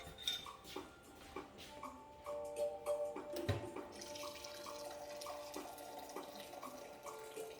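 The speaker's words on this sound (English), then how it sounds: "I'm going to put 8 ounces of hot water in here." Hot water runs and splashes into a cup amid clinks of dishes and utensils, followed by a steady gurgling pour.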